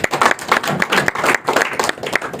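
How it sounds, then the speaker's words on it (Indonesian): Church congregation applauding during a pastor's testimony at a Christian ministry gathering, a dense burst of hand clapping that pulses unevenly and stays loud throughout. "tepuk tangan buat Tuhan"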